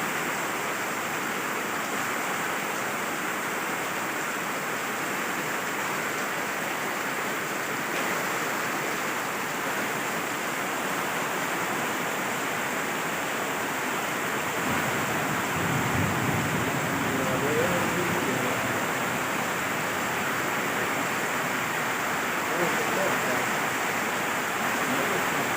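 Water pours steadily in an outdoor courtyard at a religious seminary, a continuous broadband rush with no breaks, close and fairly loud throughout.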